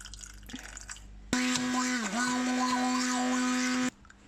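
Blender blending grated ginger with water: a loud, steady motor whine that cuts in abruptly, dips briefly in pitch as the blades load, then runs evenly for about two and a half seconds before stopping.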